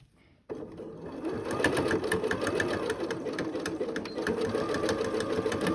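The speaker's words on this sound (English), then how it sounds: "And I'm going to do a zigzag stitch." A sewing machine runs a zigzag stitch across a shaped fabric face mask, its motor whirring continuously and evenly after a short silent start.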